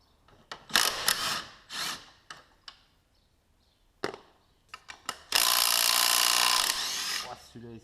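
A Makita power tool works on the bolts of a Renault Laguna 2 F4RT 2.0 L 16V turbo engine, giving several short whirring bursts and then one longer sustained run, with people talking in between.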